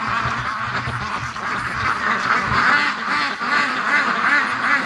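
A flock of ducks quacks and honks continuously and close by, a dense overlapping chorus around the moment a Muscovy duck flies off toward a swamp.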